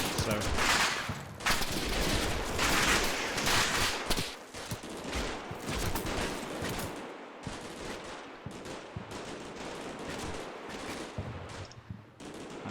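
Small-arms gunfire crackles in Combat Mission Shock Force 2 during an urban fight, with repeated sharp shots and short bursts, some near and some more distant, continuing for the whole stretch.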